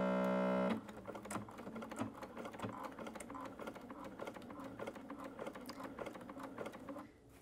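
A sewing machine runs steadily for about seven seconds at a short 1.75 stitch length while sewing a collar with stand along its curve, a close, continuous mechanical whir with rapid needle ticks.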